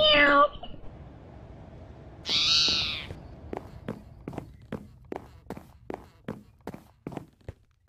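A cat meows twice in Minecraft, a short high call at the start and a longer one a couple of seconds later, followed by a run of soft, evenly spaced footsteps.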